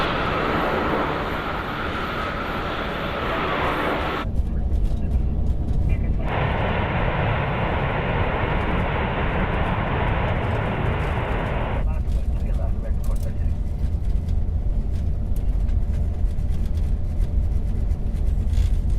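An Airbus A380 lands at San Francisco with a loud, broad jet roar that swells and shifts in tone, while air traffic radio chatter is heard over it.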